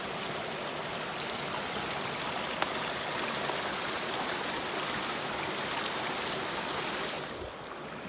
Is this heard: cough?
no